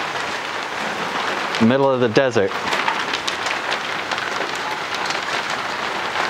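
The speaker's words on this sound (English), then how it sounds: "Some pea-sized hail." Pea-sized hail falls outdoors in the desert, a dense steady patter and crackle throughout, close and fairly loud, with someone briefly speaking over it.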